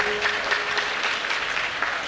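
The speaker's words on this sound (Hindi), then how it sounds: "एक बार जोरदार उनके लिए तालियां बजा दीजिए" Applause from an audience at a Kshamavani festival gathering in Civil Lines, Delhi, honouring the event's organisers: steady, dense clapping throughout, with no talk over it.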